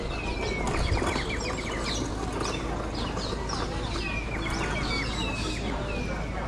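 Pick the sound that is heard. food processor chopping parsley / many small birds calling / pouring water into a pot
many small birds calling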